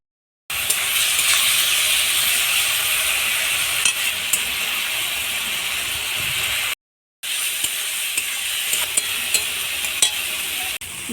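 Leafy greens cook in a pan with a steady close sizzle and hiss, stirred now and then, broken by a short pause near the end; no voices.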